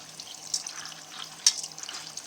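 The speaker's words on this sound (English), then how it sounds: "So I've rinsed these out. I'm going to rinse them again" Chitlins being rinsed under running tap water, a faint, steady trickle and splash of water with a couple of brief louder splashes, close by.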